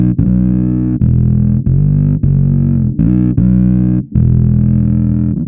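A heavily distorted bass synth tone driven through a Darkglass distortion pedal, played as a run of loud, sustained, buzzy notes with short breaks between them, alone with no talking.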